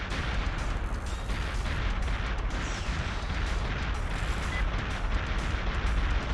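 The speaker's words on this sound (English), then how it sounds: "It's fitting to have the silo-like explosion at the same time as the silo timer." A sustained, roaring explosion in the Perfect Dark video game, loud and dense, rumbling on without a break for several seconds with crackling bursts on top.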